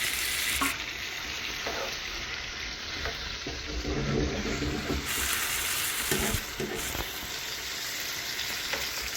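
Tomatoes sauté in hot oil in a pan, a loud, steady sizzle that runs throughout, with occasional scrapes and stirring noises and no talk.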